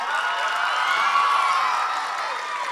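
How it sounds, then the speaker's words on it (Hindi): A crowd that includes many children cheers, shouts and claps after the debut show of the Udukku group. A sustained wash of excited voices and applause fills the whole stretch at a steady, loud level. "जोरदार तालियां हो जाए।"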